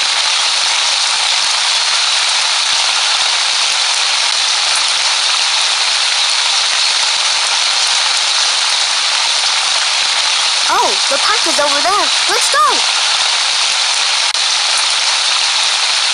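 Rain falling in a homemade Scratch animation, a loud, unbroken hiss throughout, with a voice speaking briefly over it partway through.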